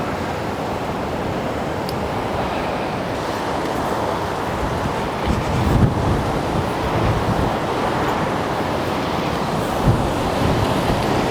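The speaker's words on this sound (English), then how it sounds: "That is a big tide." Waves of a big tide break against the shore in stormy weather, a steady roar of surf mixed with wind buffeting the microphone and occasional louder swells.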